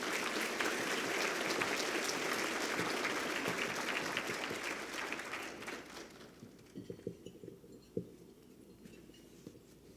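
An audience at the Akron Roundtable applauds as Ambassador Lynne Tracy, a retired senior foreign officer of the U.S. Department, comes to the podium, with dense, sustained clapping that thins out into a few scattered claps and handling noises.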